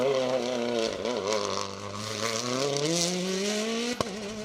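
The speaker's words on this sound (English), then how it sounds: "that fantastic looking and sounding Hyundai WRC" Hyundai WRC rally car racing on a stage: a loud engine revving with rising and falling pitch as it shifts through gears and climbs steadily, ending with a sharp crack.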